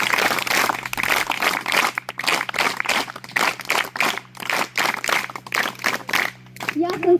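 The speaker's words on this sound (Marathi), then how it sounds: "तरी त्यांचं 3 टाळ्या वाजून जोरात स्वागत करूया." School audience clapping in rhythmic unison to welcome visiting officials of the Niramay Wellness Center from Pune, sharp claps repeating in steady bursts over several seconds with voices mixed in.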